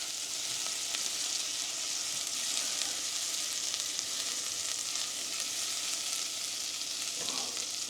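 Garlic and onions fry in a pan and get turned with a utensil, giving a continuous moderate sizzle with light scraping stirs and no talking.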